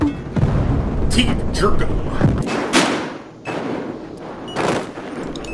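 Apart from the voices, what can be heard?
shotgun firing in video game Battlefield Hardline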